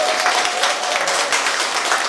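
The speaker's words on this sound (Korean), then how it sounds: "이럴 때 한번 박수 한번" A packed audience in a public broadcast hall during a live talk show applauds loudly and continuously, a dense, close wash of clapping throughout.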